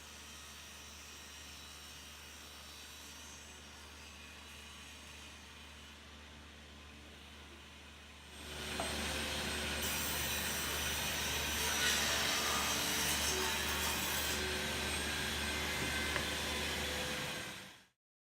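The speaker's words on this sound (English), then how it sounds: "I then trim the boards to their overall length using the table saw." A table saw trimming glued-up wooden boards to length for bedside tables: a steady motor hum, then a louder, harsher cutting roar about halfway through that holds until the sound cuts off abruptly.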